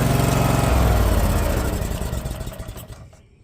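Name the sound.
23 hp Vanguard mud motor engine running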